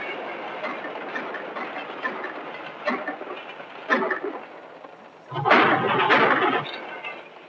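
A steam train rumbles past with rhythmic clattering of wheels on the rails, growing louder and heavier toward the end.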